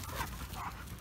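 Dogo Argentino dogs at morning play, giving short close growls, yips and whimpering sounds over about a second, with a steady rough background rumble.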